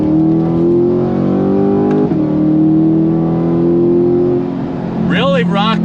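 Corvette C8 Stingray Z51 with an AWE exhaust and Tremec 8-speed dual-clutch pulls hard under acceleration, its loud, steady engine note rising and briefly dipping at a quick upshift, with a voice talking over it near the end.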